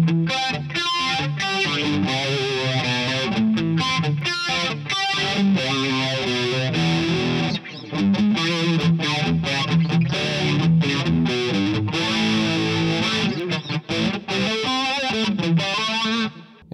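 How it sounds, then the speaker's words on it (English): Electric guitar played through a TC Electronic Stereo Chorus+ pedal into the dirty lead channel of an Orange TH-30 amp, a continuous distorted, shimmering chorused performance with sustained chords and riffs, loud and steady, no talking. "We are on the lead channel, dirty channel, whatever you want to call it, of the Orange TH-30,"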